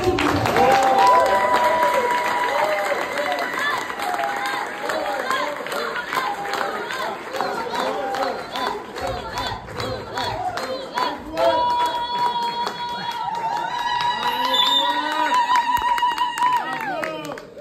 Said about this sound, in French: On va applaudir et acclamer fortement